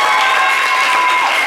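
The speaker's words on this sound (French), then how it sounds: "on peut l'applaudir très très fort" An audience at a comedy show applauds loudly and steadily, the clapping dense and unbroken, with a hint of cheering over it.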